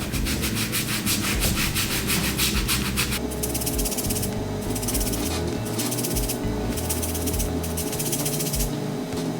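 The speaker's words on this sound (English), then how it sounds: "Spray a little bit of water to re-wet the hair" Continuous, loud hissing spray from close by, with pulsing bursts as a water bottle is sprayed repeatedly onto braided hair over a steady rubbing background.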